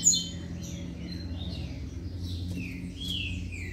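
Caged coleiro birds at a breeder's aviary chirp and sing in quick, bright phrases, several calls overlapping over a low background hum, fairly close and clear.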